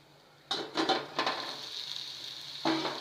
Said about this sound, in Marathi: छानपैकी भाजी झालेली आहे आणि ही भाजी ढवळून घ्यायची